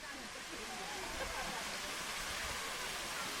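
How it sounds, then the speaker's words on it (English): A clear mountain waterfall in Seoraksan National Park, Korea, gives off a constant soft hiss and rush of falling water, fairly distant and even, with no breaks. "The nice thing about the waterfall is really just that it's so clear and clean"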